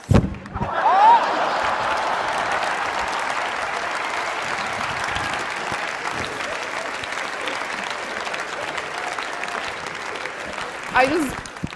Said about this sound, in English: if you guys could just clap your hands a little bit more